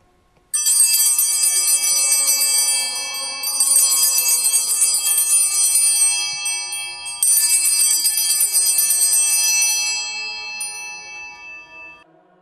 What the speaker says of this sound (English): the server will ring the bells again during the time of the consecration of the elements